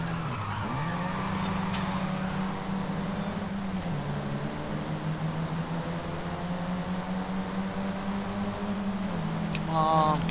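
A car drifting in Forza Horizon 5 during a La Fiesta seasonal championship race, a long steady tire squeal over engine drone that holds for about ten seconds with a brief dip partway through.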